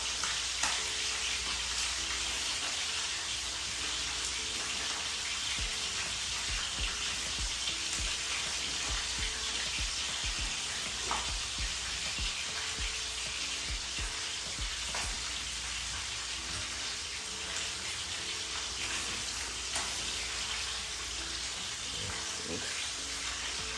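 Breadfruit roasting over a bed of coal gives a continuous crackling hiss and sizzle, steady and close throughout with small pops scattered on top.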